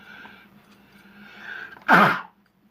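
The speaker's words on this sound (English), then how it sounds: "I'm trying to make it through without sneezing" A single sharp sneeze from a man with a cold, loud and close, preceded by a few seconds of quiet breathy throat sounds and no speech.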